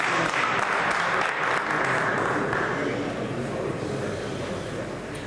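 Crowd in a three-cushion billiards hall at a World Cup match applauding, a dense sustained clatter of clapping that fills the room and slowly eases toward the end.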